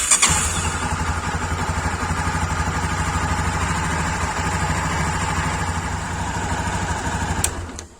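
A Honda CB 250 Twister motorcycle engine runs at a steady, close idle with an even, throbbing rumble and no talking, catching and settling at the start before a brief click near the end.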